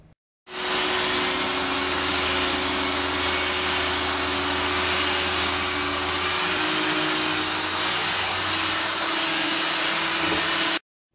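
A loud Hoover vacuum cleaner, used beside a drill wire brush cleaning metal plating and steel stairs, roars continuously at close range with a steady whine, starting abruptly and cutting off just before the end.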